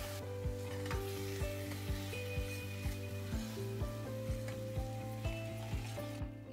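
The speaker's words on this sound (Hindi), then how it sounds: "प्याज, हरी मिर्ची और लहसुन को हम थोड़ा भूनने देंगे।" Onion, green chilli and garlic fry in hot oil with a steady sizzle, while a spoon scrapes the pan in regular strokes roughly every half second.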